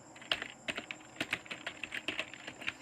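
Typing on a computer keyboard, close and fairly quiet, with uneven bursts of crisp key clicks in a steady working rhythm and no talking.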